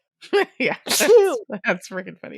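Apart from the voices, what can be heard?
sneeze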